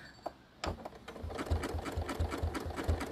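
Sewing machine stitching a tiny zigzag, starting after a brief pause and running as a quick, even mechanical chatter with regular rhythmic thumps, close and fairly quiet.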